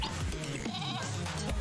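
Goats bleating in the video game Moving Out 2, a brief wavering bleat amid busy game music and effects.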